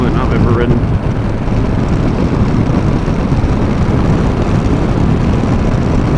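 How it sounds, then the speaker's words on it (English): A 2018 Yamaha Eluder V-twin motorcycle is ridden with a steady, loud engine drone under heavy wind rush, and a rider's voice is faintly audible over it. "it's definitely one of the smoothest V-twins I've ever driven"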